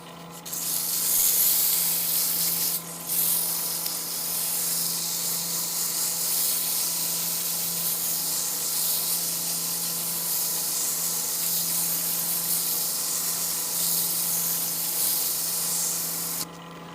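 A glass whiskey tumbler spins on a lathe while 120-grit sandpaper is pressed against it, giving a continuous bright hissing rasp over a low motor hum that holds steady for the whole stretch, with a brief break near the start.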